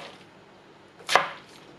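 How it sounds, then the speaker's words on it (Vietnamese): A knife slices thinly through a fresh fish in a single crisp, close cut that stands out against near silence. "Bây giờ cắt ra và cắt xéo mỏng mỏng. Cái này nó tươi, mình thử khi cắt mình nghe nó sộp sộp luôn."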